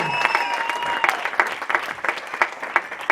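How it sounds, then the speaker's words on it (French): A church congregation applauds and cheers to acclaim the King of kings, with steady, dense clapping from many hands and some sustained voices, loud and close throughout. "nous allons acclamer vraiment pour le roi de rois. Acclamer comme on acclame pour un roi."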